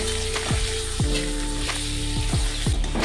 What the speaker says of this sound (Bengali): তেলটি গরম হয়ে গেছে, আলুটিকে ভেজে নেব।